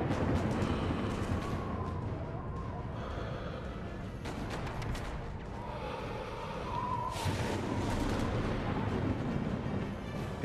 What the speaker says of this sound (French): T'as encore des coups de feu, mais je vois rien.